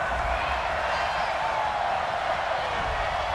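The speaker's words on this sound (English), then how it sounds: "Some boos coming down right now from this home crowd after that call." A home stadium crowd in the Madden 20 football video game, Green Bay Packers against New Orleans Saints, reacting to a penalty call with a steady, sustained roar of noise and no breaks.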